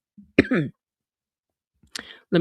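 Two short, sharp coughs close to the mic, separated by over a second of silence, the second followed by a brief throat noise.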